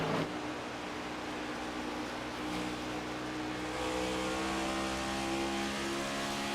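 Race car engines roar steadily on an oval at Rockingham during a sim race, a continuous loud drone of several cars with slightly rising pitch as they push toward the finish, no voices over it.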